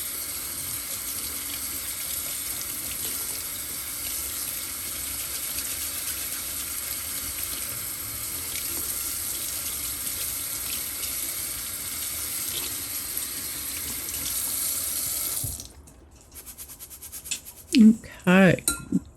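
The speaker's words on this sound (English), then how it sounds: "I always wash my quinoa" Tap water running steadily into a sink while quinoa is washed, a continuous close rushing stream that stops near the end, followed by a few clinks of dishes and a voice speaking.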